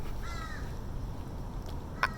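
Outdoors, a crow gives one short, clear caw near the start, then the call fades into steady wind noise, with a sharp click near the end.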